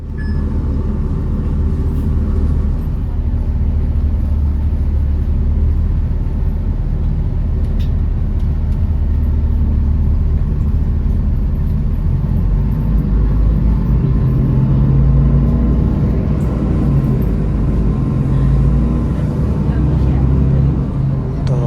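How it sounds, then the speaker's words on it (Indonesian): A city transit bus pulling away on the route to Soekarno-Hatta airport, its engine giving a loud, steady low rumble with road noise throughout, continuous and close from inside the cabin. "Setelah semua penumpang masuk dan mendapatkan tempatnya masing-masing, bis langsung berangkat."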